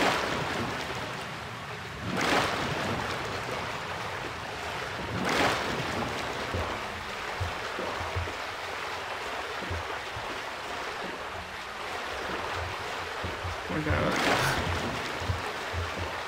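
Moving water in a Thief fan mission built on the Dark Engine forms a continuous wash of surf-like rushing, with a few louder swells rising and falling over a steady background.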